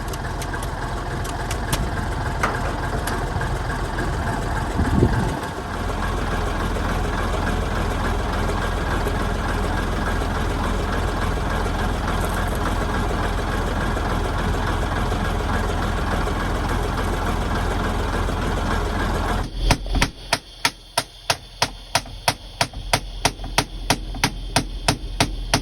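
A Scania airfield refuelling tanker's diesel engine runs at a steady idle, a continuous low rumble close by, then a rapid series of sharp regular clicks or knocks takes over near the end.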